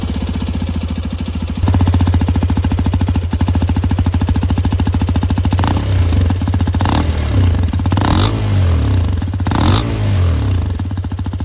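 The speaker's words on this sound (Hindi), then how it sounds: "जैसे ही आप एक्सपल्स 210 को फायर अप करते हो, इस सेगमेंट की सभी बाइक से एक अलग ही एग्जॉस्ट नोट फील होता है।" A Hero Xpulse 210 motorcycle engine fires up and settles into a loud, close, deep chunky thump, then is revved in several rising and falling bursts over the steady idle.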